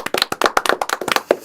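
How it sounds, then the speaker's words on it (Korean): Studio audience clapping on a Korean talk broadcast: a brief, close burst of brisk, uneven hand claps from a small group, loud and dry, lasting under two seconds. "우리가 박수 한번 보내면 어떻습니까?"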